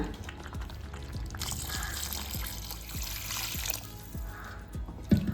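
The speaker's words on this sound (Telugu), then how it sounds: "మరి ఇప్పుడు నీళ్ళు పోసుకుందాం" Water is poured into mutton curry simmering in a pan, a steady broadband splash and gurgle in the middle of the clip over low background kitchen rumble, with a brief knock near the end.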